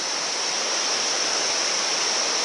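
A small waterfall on a trekking route in Nepal, a steady, loud, even rush of falling water that fills the whole clip without pause and with no voices.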